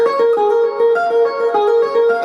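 Guitar harmonics are picked one after another over a held barred chord, so bell-like chiming notes ring together in a quick, even pattern, close and alone.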